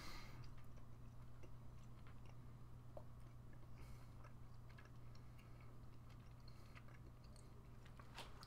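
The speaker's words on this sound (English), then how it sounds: "It takes a lot of chewing." Hard, chewy Japanese candy being chewed close to a microphone, giving steady, faint, repeated sticky mouth clicks and soft crunches over a constant low hum, with no talking.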